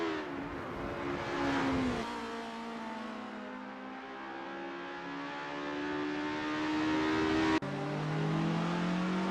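A 1963-style formula race car on a practice out lap at Lake Garnett in a racing video game drones steadily, its engine pitch rising and falling through shifts, then drops sharply before climbing again.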